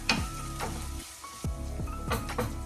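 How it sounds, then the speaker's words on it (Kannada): Strips of onion and capsicum frying in a pan, a close crackling sizzle broken by a few stirring scrapes, with a short dip in the sound partway through. "ಈಗ ಇದಕ್ಕೆ ನಾನು ಕ್ಯಾಪ್ಸಿಕಮನ್ನು ಹಾಕ್ತೀನಿ ಈರುಳ್ಳಿ ಹಾಗೆ ಕ್ಯಾಪ್ಸಿಕಮ್ ಎರಡನ್ನು ಉದ್ದುದ್ದಕ್ಕೆ ಹೆಚ್ಕೊಂಡಿದ್ದೀನಿ ಇದನ್ನು ಒಂದು ಎರಡು ನಿಮಿಷ ಫ್ರೈ ಮಾಡ್ಕೊಳ್ತೀವಿ"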